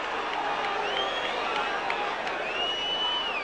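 Football crowd at an English league match between Middlesbrough and Oldham Athletic in the 1994-95 season, a steady broad roar and murmur filling the stadium with rising calls, heard continuously at a distance without a break.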